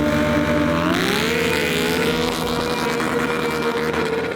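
A KTM 790 Duke and a Kawasaki Ninja ZX-6R drift with loud, sustained engine roar that rises and shifts pitch as the revs climb and hold, close and continuous.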